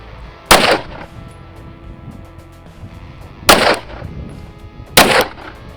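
Three loud, sharp handgun shots of G9 ammunition fired from a 3.7-inch barrel, spaced about three seconds then one and a half seconds apart, each with a short ringing tail outdoors and no talk.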